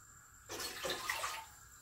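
A short burst of two cups of water pouring into a pot, lasting about a second against a quiet background.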